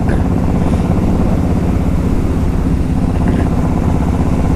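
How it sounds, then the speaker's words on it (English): A Honda VTX 1800 motorcycle engine runs loud and steady up close, a continuous deep droning rumble that holds strong for the whole stretch with no voices over it. "I'm gonna crack this throttle one more time"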